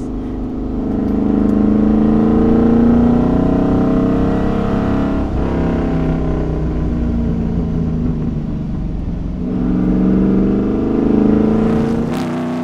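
A Shelby-powered Tiger rally car roars loudly and steadily, its deep engine note rising and falling as the driver works the throttle, up close for the whole stretch.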